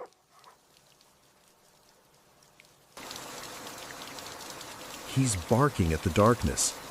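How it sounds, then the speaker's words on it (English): Steady rain hiss from a night storm rises abruptly after near-silence, pattering on a surface, with a dog's barks breaking through near the end. "It's just rain."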